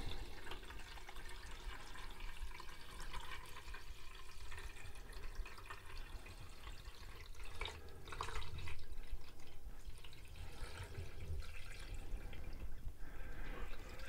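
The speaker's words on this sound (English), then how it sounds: "let's get the silver nitrate poured into the tank here." Silver nitrate solution poured into a tank in a mobile darkroom for wet plate collodion photography, a soft continuous trickle and splash of liquid that swells slightly midway, quiet and close with no talking.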